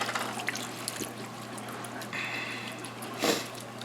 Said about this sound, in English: Next, you'll need your jar of pepperoncinis, juice and all. Put everything right in on top.